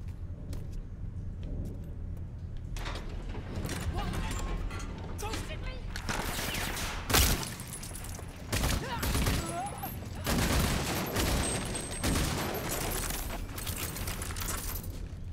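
Gunfire in the video game Rage 2 erupts in bursts of rapid shots and heavy blasts over a running engine-like background, with a voice talking between volleys.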